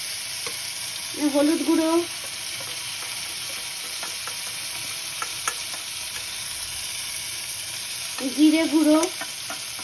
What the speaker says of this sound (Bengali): আদা রসুনের পেস্টটা কষানো হচ্ছে।